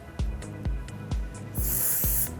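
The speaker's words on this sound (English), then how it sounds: "just spray a small amount through the root area" Short hair texture spray bursts hiss close by as it is sprayed at the hair roots, with a longer hissing spray near the end, over soft rhythmic thumps.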